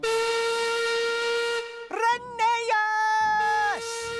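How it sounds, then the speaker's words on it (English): A steam engine whistle from a Wooden Railway remake, a long, loud harmonic tone held about two seconds, then broken into shorter rising and falling blasts before one more sustained blow that cuts off sharply. "So Peter Sam whistled as long and as loudly as he could."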